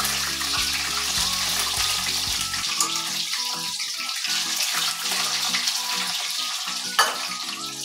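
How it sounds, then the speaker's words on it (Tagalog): Tofu frying in a pan for a simple budget home meal, a steady broadband sizzle running throughout at close range, with a low rumble in the first few seconds and a brief clack near the end. "Babaliktad ko lang po yung piniprito kong tokwa"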